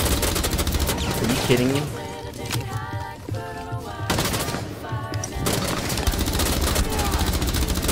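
Bursts of automatic gunfire in the tactical shooter Rainbow Six Siege, loud and continuous with brief lulls between volleys, while a player speaks over the shooting.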